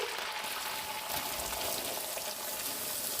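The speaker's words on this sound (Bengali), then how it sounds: "ফোড়ন হয়ে গেলে এর মধ্যে কেটে রাখা পেঁয়াজগুলো দিয়ে দিচ্ছি।" Chopped onions hit hot oil with whole spices, including a cinnamon stick, and fry in a soft, continuous close sizzle with light crackle.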